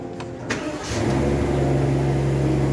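A Rolls-Royce Black Badge Ghost engine cranks briefly, catches and settles into a steady, loud idle rumble, with no talking.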